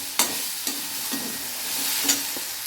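Turkey berries and eggplant sauté over a high flame, with a spatula scraping the pan in a few distinct strokes over a constant, close frying sizzle.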